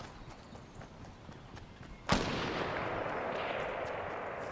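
Gunfire in the Fortnite video game: one sharp, loud shot or blast cracks out partway through, followed by a sustained rushing wash of noise over faint background game sound.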